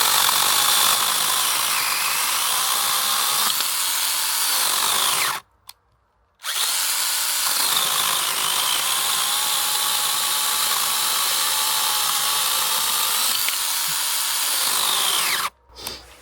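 A small cordless mini chainsaw, a STIHL GTA 26 or ProCraft PKA 45, whirs steadily while cutting wood, stopping briefly twice for short pauses before starting again. Its motor tone dips under load, with no talking.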